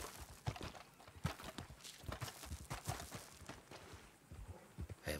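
Hooves clip-clop in Red Dead Redemption 2 as a horse walks, a steady run of soft, fairly quiet thuds over light background noise.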